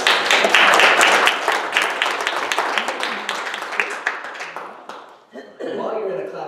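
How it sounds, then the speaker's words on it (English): A church congregation at a Sunday service claps, a loud rapid patter of many hands that gradually thins and fades out, after which a voice begins speaking. "While you're in a clapping mood"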